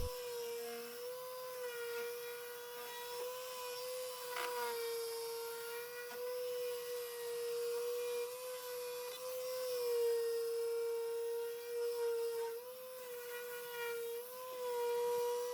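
Steady, high-pitched whine of an electric circular sander working across the wooden top of a thrift store nightstand, holding a constant tone with slight shifts in pitch as it moves, close and without talk.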